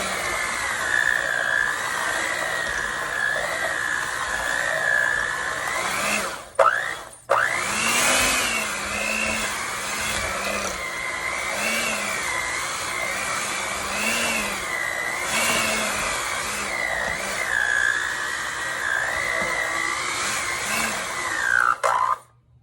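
Electric mixer beating sticky tullumba dough, a loud, continuous motor whine that wavers in pitch as the load changes, with two brief dips where it nearly cuts out, close and alone with no talking.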